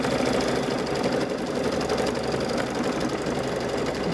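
A Husqvarna Epic 980Q sewing machine runs steadily at a constant speed, giving a close, even mechanical hum and whir with no pauses and no talking.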